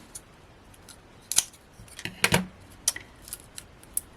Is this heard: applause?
no